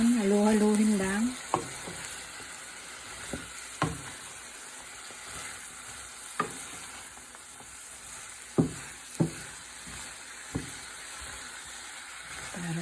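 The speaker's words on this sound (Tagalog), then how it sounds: "Ayan, halu-haluhin lang." Vegetables stirred and fried in a pan, a steady close sizzle with intermittent scrapes and knocks of a spatula against the pan, and a brief voice at the start.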